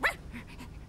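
A dog gives a single sharp bark right at the start, fairly close, followed by quiet room tone with faint rustling; no one speaks.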